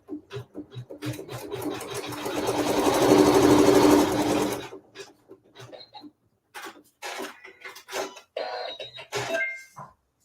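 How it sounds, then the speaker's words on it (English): A sewing machine stitches a seam through white fabric in one steady, whirring run of about four seconds, then stops. Soft handling noises and short clicks follow in the quiet. "And now I'm going to sew a seam."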